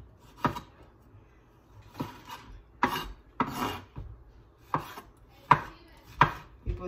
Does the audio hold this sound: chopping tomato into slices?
yes